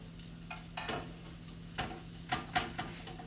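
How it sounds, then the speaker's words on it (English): Breadcrumbed chicken browns in a frying pan for chicken parmigiana, a quiet low sizzle broken by several soft stirring scrapes and light taps close by, with no talking. "we're just browning the breadcrumbs, and that's just basically to seal them."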